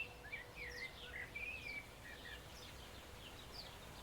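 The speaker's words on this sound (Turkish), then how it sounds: "Şu an kuşlar ötüyor." Faint bird chirps and short tweets scattered over a steady outdoor background hiss in a forest, fairly distant, with no voices.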